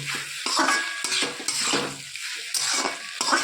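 Masala okra (bhindi) with onion being stirred in a pan, with repeated bursts of a spoon scraping and clanking against the metal over a soft sizzle, in an uneven rhythm of strokes, without speech.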